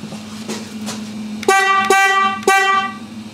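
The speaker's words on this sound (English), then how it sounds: "So that's the mini sound bomb. Let's give it a blast." A Denali mini Sound Bomb horn fitted to a motorcycle gives three loud, close blasts, two short and one longer, over a low idling rumble.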